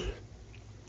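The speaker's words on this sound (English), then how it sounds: "sorry about that cough" A single short cough bursts out at the start, close and fairly quiet, then fades into low room hum with nothing else following.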